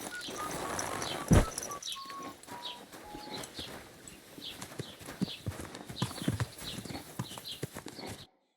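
Horse hooves clip-clop at a walk on hard ground in Kingdom Come Deliverance 2, faint and steady, with a snort, distant birds and a sudden cutoff at the end.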